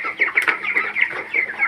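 Chickens cluck in quick, close bursts, several short calls in under two seconds, clear and fairly loud with no talking.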